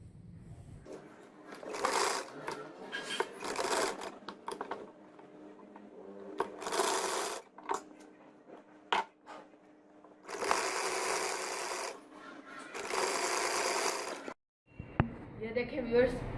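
A sewing machine stitches the hem panels and sleeves of a Pakistani dress in several loud, separate bursts of rapid whirring, with short pauses between runs.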